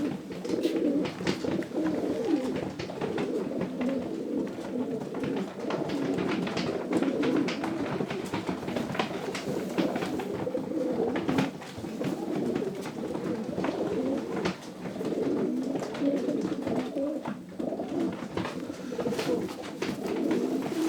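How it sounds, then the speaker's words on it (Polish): Several racing pigeons coo continuously in low, rolling, overlapping calls, close and fairly loud, with soft shuffling and wing noises between. "To jest ten gołąb."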